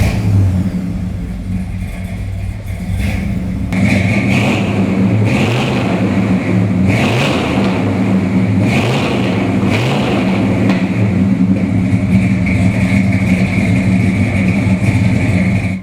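A 1970 Chevrolet Chevelle SS454 with a 454 V8 and 4-speed, revving and driving: a deep rumbling exhaust with repeated surges of throttle and gear changes, loud and close throughout without speech.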